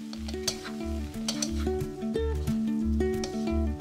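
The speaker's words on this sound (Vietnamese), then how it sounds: "Cuối cùng thì mình cho trứng vào và trộn đều lên một lần nữa" Egg stirred into noodles in a hot pan, steady sizzling with scraping strokes of a utensil, a rhythmic pulsing pattern throughout and no talking.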